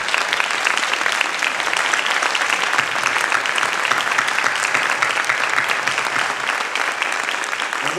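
An audience at a high school event applauds steadily for several seconds, dense clapping from many hands filling the room at an even, sustained level.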